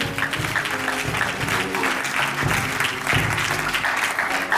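A church congregation applauds at a prophet's ordination service, a steady dense patter of many hands that is moderately loud throughout, with music or voices faintly present underneath.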